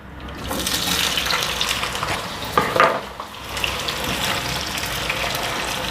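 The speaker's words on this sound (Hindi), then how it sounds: "और इसको अच्छी तरह हमने फ्राई करना है। दालचीनी, लौंग और बादियान का फूल इसके अंदर एक बहुत ही अच्छा फ्लेवर लेके आता है" Taro root frying with cinnamon, cloves and star anise in a pan, giving a steady close sizzle with brief louder bursts of stirring partway through, no voices.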